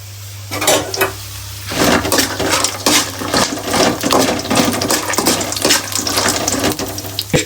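Four or five dry red chillies and fresh curry leaves spluttering in hot oil in a home kitchen, loud crackling sizzle with sharp pops and bursts over a steady low hum, no voices.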